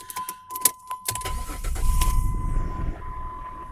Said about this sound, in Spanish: Vamos a prender el motor. Vamos a oír si empareja o no empareja.